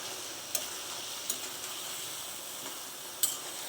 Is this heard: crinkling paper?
no